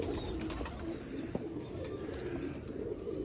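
Red-eyed pigeons kept in the Sialkot border area coo softly and nearby. The faint, low calls sit over a quiet background hum, with one small knock partway through.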